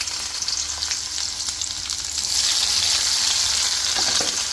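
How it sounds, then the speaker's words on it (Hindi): Onions fry and sizzle in melted ghee with whole spices for a festive thali tadka, a steady close crackling hiss that grows louder halfway through, with no talk. "ये थोड़े अंदर तड़के में डाल दिए खड़े मसाले के साथ"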